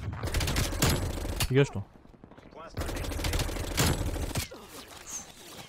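Gunfire in Black Ops Cold War, including a Fara 83 rifle: two long bursts of rapid automatic shots, loud and close, separated by a brief lull, with a player talking in between.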